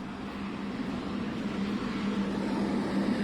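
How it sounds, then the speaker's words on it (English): Jet engines of the Kansas City Chiefs' charter plane run on the ground before takeoff, heard from outside as a steady low rumble and hum that slowly grows a little louder. "Well, Dia, they just turned the engines on."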